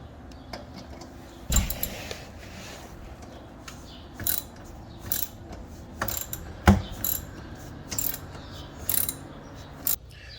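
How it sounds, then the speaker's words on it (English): Screws being taken out from underneath a 2017 Jeep Cherokee with a ratcheting tool: bursts of quick metallic clicking, with brief pauses between them, recur every second or so against a low background hum, with no talking. "I'm just underneath here getting all the screws out that I can."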